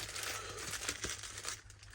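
Crinkling plastic bag being handled while wrapping a lightweight first aid kit for hiking, with close, quick rustles and crackles that fade slightly toward the end.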